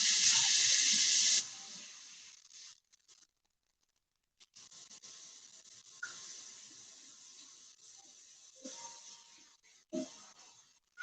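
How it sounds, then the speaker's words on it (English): A kitchen tap runs with a bright steady hiss for about a second and a half while hands are washed, then stops, followed by faint splashes, drips and small handling clatters close by. "I'm gonna wash my hands."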